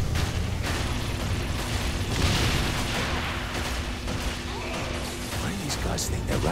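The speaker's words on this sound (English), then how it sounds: "Love explosions." Chaotic explosions in Saints Row 4 rumble and crackle as a dense, continuous roar of blasts and debris, loud and close, with a few sharper pops near the end.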